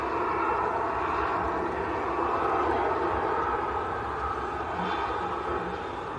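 A Jet2 Airbus A330 approaching to land at Manchester Airport, its engines a steady broad roar holding loud and even throughout.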